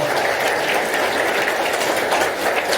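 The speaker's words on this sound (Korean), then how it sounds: "아버님께 큰 박수 보내주시길 바랍니다" Wedding guests clap steadily for the bride's father during a ceremony, a dense, even wash of applause lasting throughout without any voice over it.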